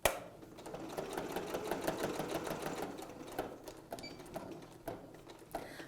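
Sewing machine quilting stitches around a coffee cup design, a quick rhythmic mechanical chatter of the needle in short runs with brief pauses and clicks, close and moderately loud.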